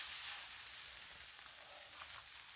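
Butter sizzles on a hot griddle, a steady bright hiss that holds close and constant for a couple of seconds with no voices.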